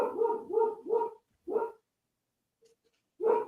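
Dogs bark in a quick run of three loud, close barks, then a single bark after a short pause, a faint whimper in the quiet gap, and another bark at the end, with no talking.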